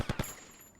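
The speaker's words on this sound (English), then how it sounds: "Fraley now gets hit by a shotgun." Shotgun fire in a competitive esports video game match, heard as three quick, punchy close-range blasts in rapid succession, followed by a fading ring and faint high-pitched tones, with no voices.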